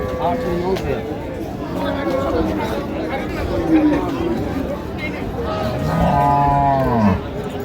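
Dairy cows and calves moo loudly several times over a busy crowd of chattering people at Raniganj cattle market in Dinajpur, with a long drawn-out low moo near the end.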